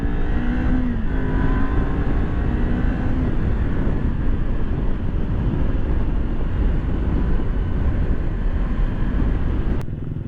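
A Kawasaki Ninja 400 motorcycle on a test ride, its engine droning loud and steady throughout with wind rush, no talk over it, and a brief click near the end.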